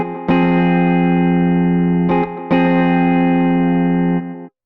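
Voyager Guitar arpeggiator pattern: two bright, sustained guitar-like chords ring out with a short gap between, ending in a loud release sample before cutting to silence.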